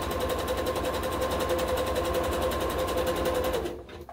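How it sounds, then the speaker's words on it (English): A sewing machine runs a zigzag stitch around the edges of monk's cloth backing for a hooked rug, a fast even mechanical chatter with a faint whine that runs steadily, then stops near the end. "if you have a sewing machine, you should just zigzag around the edges."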